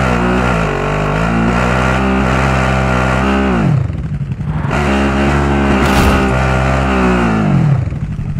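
Vehicle engine droning steadily while driving in the Call of Duty Warzone video game, loud and continuous with revving rises and falls, a brief dip near the middle before the engine surges again.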